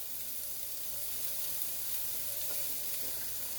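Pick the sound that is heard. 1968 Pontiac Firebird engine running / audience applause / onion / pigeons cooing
onion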